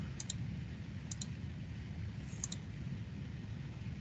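Mouse clicks while modelling a linear pattern in Onshape: a few faint, sharp clicks, some in quick pairs, over a low steady room hum.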